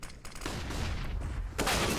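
Rapid automatic gunfire bursts from a Counter-Strike match at BLAST Premier Fall Groups 2023, loud and dense, firing almost continuously with a louder, brighter burst near the end.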